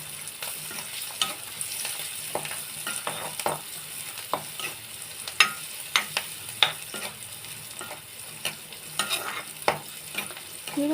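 Onions fry in a pan toward light brown for vegetable broken-wheat daliya, a steady sizzle broken by repeated sharp scrapes and taps of a spatula, close and fairly loud, with no speech.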